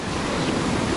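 Sea waves washing onto the shore at Dagomys, Sochi, a close, continuous broad rush of surf with some wind buffeting the microphone.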